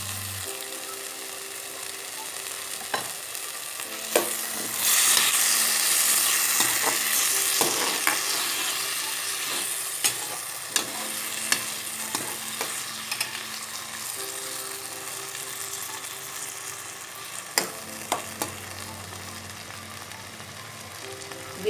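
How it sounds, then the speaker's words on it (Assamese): Tomatoes fry and get stirred in a pan, a steady low sizzle broken by sharp clicks and scrapes of a spatula, with a brief louder hiss early on and quiet music underneath. "বিলাহীখিনি এতিয়া গলি নোযোৱালৈকে আমি ভাজি ল'ম।"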